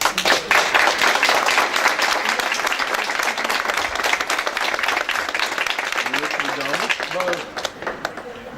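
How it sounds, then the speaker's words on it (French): Audience applause at a Miss Picardie 2017 beauty pageant gift ceremony, a loud, sustained wash of clapping that continues for several seconds before tapering near the end, where a voice briefly comes through. "j'aimerais vous applaudir bien fort pour votre soutien pendant cette belle aventure"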